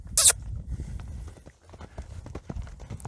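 A horse's hooves clip-clop at a trot close by, quick irregular beats with a brief sharp sound near the start and no talking.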